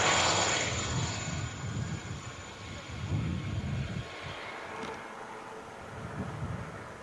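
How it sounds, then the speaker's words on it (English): A military helicopter flies over a field at night, its steady rotor and engine drone rumbling in the distance, mixed with wind buffeting the microphone throughout. "This helicopter breaks away, goes to the back of the field."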